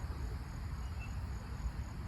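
Crickets chirping outdoors, a thin steady high-pitched trill running through the whole stretch, fairly faint over a low rumbling background with no talk.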